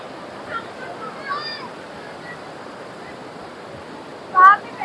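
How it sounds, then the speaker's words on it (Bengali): Water rushes steadily down a waterfall at Basistha Ashram in Guwahati, Assam, a continuous close roar with a few brief faint voice-like sounds above it. "এখান দিয়ে প্রবল বেগে কিন্তু জল নেমে আসে"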